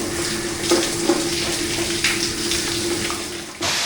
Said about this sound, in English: That was a decent shower.